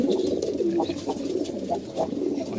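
Pigeons kept in a home loft cooing nearby, a run of soft, rolling low coos repeating in a steady rhythm with no talk over them.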